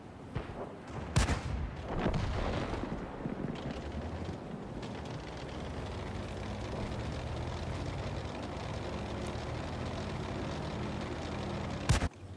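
Gunfire in the game Black Rock, a continuous roar of shooting and rumbling explosions throughout, with a sharp crack near the start and another near the end.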